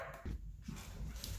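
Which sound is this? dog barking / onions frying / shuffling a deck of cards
dog barking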